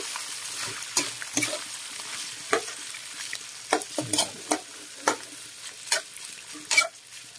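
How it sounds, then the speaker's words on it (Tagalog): Pork fat renders in a hot pan for an Ilocano dish, a soft steady sizzle punctuated by a dozen or so quick scraping stirs of a spatula against the pan, close and unhurried. "Haluin natin. Palalabasin natin ang kanyang taba, mantika."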